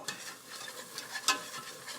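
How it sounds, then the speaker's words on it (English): Butter and flour roux being whisked in a pan for baked macaroni and cheese, a soft steady scraping and stirring with a faint sizzle, a few sharper clinks of the whisk against the pan, no voices. "I'm going to whisk this for a few minutes"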